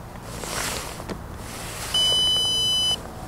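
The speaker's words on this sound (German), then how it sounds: "Und da war der Piepston." A single steady electronic beep from telescope equipment powering on sounds for about a second, loud and high-pitched over a hissy outdoor background.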